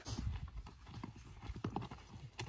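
A horse walking outdoors, its hooves clip-clopping in a quick, fairly close rhythm of several steps over a short stretch.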